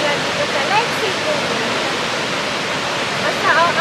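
Waterfall at Lake Sebu, a steady broadband rush of falling water that stays constant and fairly loud throughout, with faint voices briefly audible over it.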